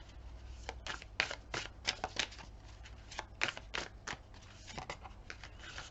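Tarot cards are shuffled by hand up close, producing rapid crisp riffling flutters and snaps in quick bursts, fairly quiet over a low background hum, with no talking.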